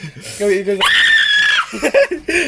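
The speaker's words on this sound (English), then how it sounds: "You can't just scream." A person lets out a loud, sustained high-pitched scream lasting nearly a second, close to the mic, framed by other voices talking and giggling before and after.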